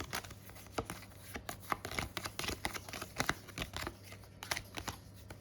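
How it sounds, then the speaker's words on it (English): A deck of cards being shuffled by hand at a tabletop Darkest Dungeon board game session, a busy run of quiet riffling and crisp flicks over a low steady hum, with no talking. "So I'm going to shuffle these up."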